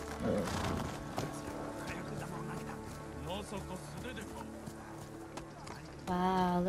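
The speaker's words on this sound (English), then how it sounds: "Can I ride my horse?" Hoofbeats clip-clop as a horse is ridden in the video game Ghost of Tsushima, soft rhythmic steps under game ambience, with a player talking and a brief whinny-like tonal burst near the end.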